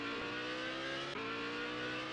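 Grinnall Scorpion racing in ToCA 2 Touring Cars, its engine holding a steady, loud, high drone with rich harmonics and a brief dip midway as the wheels spin, continuous and without voices.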